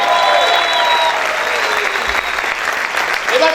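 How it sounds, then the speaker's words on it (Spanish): A church congregation applauds loudly and continuously during a worship service, dense sustained clapping with crowd shouting mixed in, a sung or spoken voice faintly threading through. "Aplauden en esta hora,"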